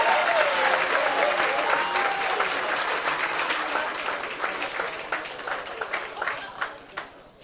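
Sustained audience applause at a 2025 Endless Summer evening club event, loud and dense from the start, then gradually thinning into scattered claps as it fades over several seconds.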